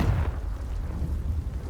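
A Confringo spell blast in Hogwarts Legacy rumbles as a loud, deep booming explosion, its low roar sustained throughout the clip with no voices over it.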